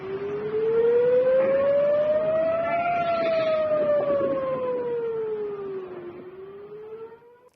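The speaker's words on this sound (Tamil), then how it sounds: "எச்சரிக்கை சைரன் ஒலிக்கப்பட்டது" An air raid warning siren sounds over a blacked-out area near Jammu during a night attack, a loud single wail that slowly rises, holds, then falls and swells again, heard alone.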